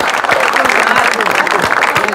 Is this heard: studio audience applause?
yes